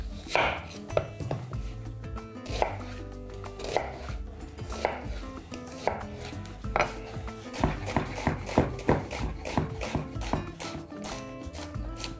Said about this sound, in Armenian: Վերցնում ենք 2 գլուխ սոխ, միջին չափի, եւ կտրատում ենք մանր։